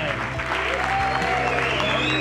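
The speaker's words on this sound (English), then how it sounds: "One more round of applause for all the competitors." Crowd applause for the competitors at the Nazaré tow surfing challenge, continuous clapping mixed with music and background noise, brief and moderately loud.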